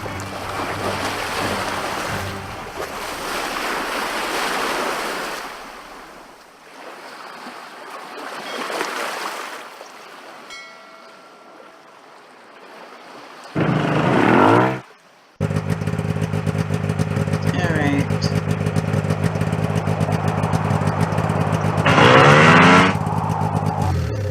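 Seaside driving in the video game Nancy Drew: Sea of Darkness, with surf-like wash fading, a sharp transition, then a steady engine drone with rising revs.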